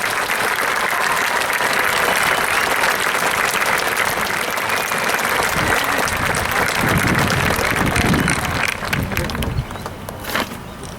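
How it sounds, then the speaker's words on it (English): Applause for graduating students and their parents at a graduation ceremony, a loud sustained wave of many hands clapping that carries on steadily and tapers slightly near the end, with some crowd murmur. "Please give these students and their parents a round of applause."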